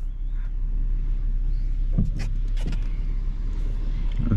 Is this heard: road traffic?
yes